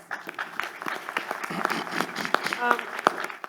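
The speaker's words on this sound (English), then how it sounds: "I think that deserves a round of applause" At a summit plenary, an audience claps in a loose, uneven round, individual claps standing out with a few sharp louder hits, moderately close and without speech.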